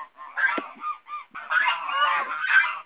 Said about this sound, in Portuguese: Vai lá com o ganso lá.